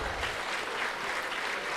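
An audience at a national economic dialogue conference applauds a panel, a dense steady wash of clapping with no voices on top.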